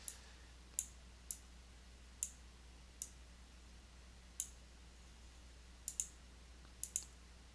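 Mouse clicks during Photoshop editing: about ten sharp, isolated clicks spaced irregularly over a quiet room hum, close and crisp, with no talking.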